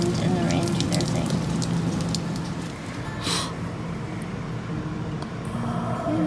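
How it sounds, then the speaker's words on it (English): Rain and wind beat on a camper during a storm near the Outer Banks, a steady dense patter and rush filling the interior, loud and continuous with a brief louder gust midway. "it's interesting to be in this camper when the wind and the rain do their thing"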